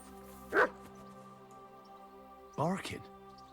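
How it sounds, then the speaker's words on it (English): Two short dog barks from Kingdom Come: Deliverance 2, one near the start and a longer, whinier yelp about two seconds later, over a steady game background hum. "Barking."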